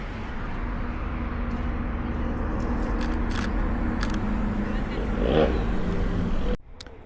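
Cars passing along a residential street at night during Halloween, a steady rolling roar of tires and engines that swells, then abruptly drops away near the end, with a few sharp clicks along the way.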